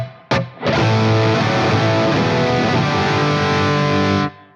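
An electric guitar through a ToneX One Plus running a Royal 45 amp model with room reverb rings out as a single distorted chord, struck once and sustained for about four seconds before cutting off.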